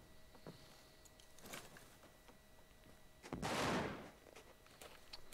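Gunfire in the video game America's Army, with one loud blast standing out from a quiet background of faint clicks and scattered distant shots.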